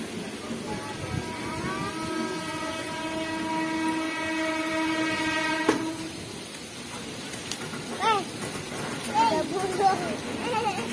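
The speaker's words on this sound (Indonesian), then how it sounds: "dekat kereta api juga tuh" A train horn sounds a long sustained tone while a train rumbles past with rail noise, followed by distant voices.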